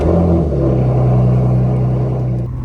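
A Porsche engine drones loudly and steadily from inside the car, a sustained close rumble with a constant hum that eases off slightly at the very end.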